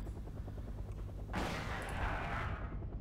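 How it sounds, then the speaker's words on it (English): ADATS air defence vehicle firing in the Wargame: Red Dragon video game, a low rumbling bed of distant battle noise, then a sudden loud burst of fire about halfway through that lingers. "ADATS is getting plenty of shots off."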